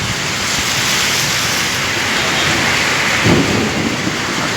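Steady heavy rain pours throughout at close range, with a brief low rumble of thunder swelling near the end of a stormy spell during a crowded outdoor event.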